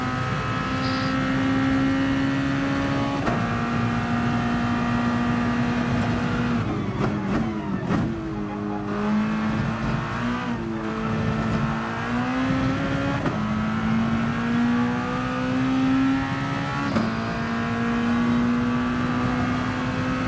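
Race car in a Le Mans racing video game held at full throttle, a loud, steady engine drone with gear changes and revs dropping and climbing again, continuous throughout with no talk.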